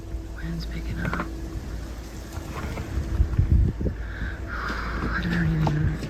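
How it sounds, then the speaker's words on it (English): Wind picks up in a forest, a gusty low rumble buffeting the microphone that swells louder toward the end, with faint hushed voices underneath. "Wind's picking up."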